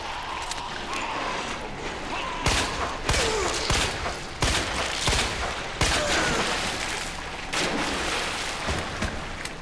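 Gunshots in Resident Evil 2 Remake fired at a zombie in the sewers, several loud sharp reports spaced irregularly over a steady game background.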